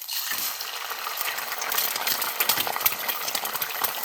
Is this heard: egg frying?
yes